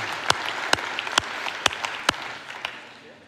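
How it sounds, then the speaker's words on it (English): Audience applause for legislators at a Main Street summit keynote. Sparse, close, sharp individual claps stand out over a softer bed of crowd clapping that gradually fades toward the end. "if you could please stand up and let's give you a round of applause."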